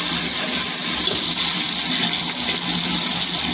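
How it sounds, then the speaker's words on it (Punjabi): Water pours into a cooking pot of fried mash daal in a steady, close gushing stream that runs without pause. "ਹਲਕਾ ਜਿਹਾ ਪਾਣੀ ਪਾ ਦਿਆਂਗੇ।"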